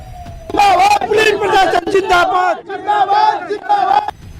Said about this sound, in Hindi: भारी भीड़ जमा थी, जो जमकर पुलिस प्रशासन जिंदाबाद के नारे लगा रही थी